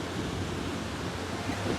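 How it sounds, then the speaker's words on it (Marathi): Monsoon waterfall on the Surya river, a steady, full-bodied rush of falling water with wind noise buffeting the microphone, continuous and close with no voices. "सूर्या नदीचं पाणी तिथे हा धबधबा"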